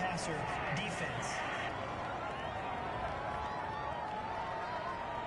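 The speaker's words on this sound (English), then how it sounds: "Well, this crowd does not like that call." Stadium crowd in a Madden football video game reacting to a roughing-the-passer penalty, a steady roar of many voices that stays loud and dense throughout with no clear break.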